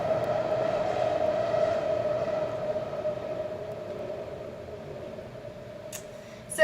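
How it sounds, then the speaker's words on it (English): A train passes at a distance, a steady droning hum with a sustained tonal whine holding throughout and slowly fading, with no talk over it. "Sorry about the train."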